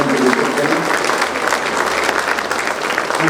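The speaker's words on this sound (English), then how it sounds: "Give a very big applause again" Applause from an audience at an award function, a dense steady patter of many hands clapping close and loud throughout, with no speech over it.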